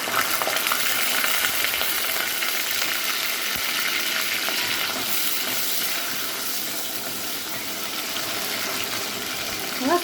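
Chickpeas cook in hot oil in a pot, giving a steady, dense sizzle and crackle that runs unbroken throughout at close range, with no voices.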